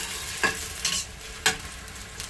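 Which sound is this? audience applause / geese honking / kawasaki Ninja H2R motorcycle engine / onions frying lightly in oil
onions frying lightly in oil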